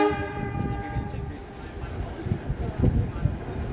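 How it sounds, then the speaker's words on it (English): An NJ Transit Arrow III multiple-unit train on the Princeton Dinky line sounds a faint sustained horn, with low rumbling and light clatter beneath it. "The train that'll take me to Princeton today are these Aero 3 multiple unit trains"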